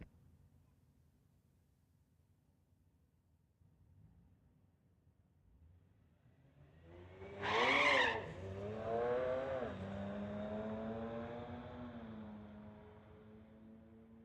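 A 2008 BMW 335 makes a drag strip pass, swelling from quiet into a loud, rising engine howl with a sharp peak, then holding a strong droning tone as it pulls away.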